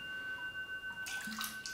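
Water poured into an antique Thadobati singing bowl, a brief splashing trickle over the bowl's faint sustained ringing tones, close and fairly quiet.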